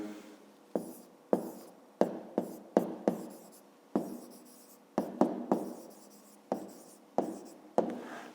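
Pen strokes scratch on paper as a math answer is written down by hand, a steady series of short close scraping strokes with brief pauses between them.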